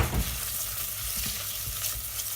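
Chopped onion with salt sweats in a pan over medium heat, giving a steady, soft, close sizzle with faint crackles and no voices.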